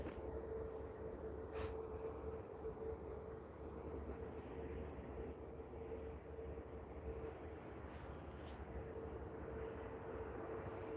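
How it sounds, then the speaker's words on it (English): A Horizon Air Q400 turboprop in a special Washington State University livery taxis out for departure toward runway 26 left at Vancouver International Airport, giving a steady, moderately distant droning hum with a constant engine tone and no talking. "special livery Washington State University Q400 with Horizon Air that we saw land about an hour ago is taxiing back out for departure"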